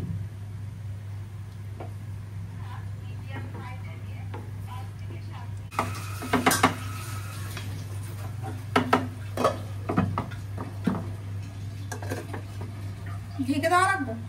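Small fish being stirred in a cooking pot for a Bangladeshi chorchori, with intermittent scraping and clinking of a utensil against the pot over a steady low hum, busier toward the end.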